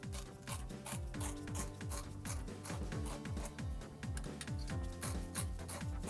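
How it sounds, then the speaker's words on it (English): A spiral cement tool turns clockwise inside a radial tire injury with Tex 760 chemical vulcanizing fluid, giving a steady, rhythmic rubbing and ratcheting grind over a mechanical whir, with no talking. "Cement the injury from inside the tire using Tex 760 chemical vulcanizing fluid and a spiral cement tool with a clockwise rotation."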